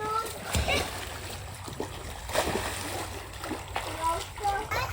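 Splashing water in an Intex above ground pool, a steady churning wash with brief louder slaps, close by, with children's voices and talk mixed in.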